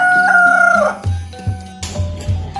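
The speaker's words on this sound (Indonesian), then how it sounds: "terdengar suara yang berkokok tanda pagi hari datang" A rooster crows at daybreak, one loud, close, drawn-out cock-a-doodle-doo followed by several short clucks from nearby fowl.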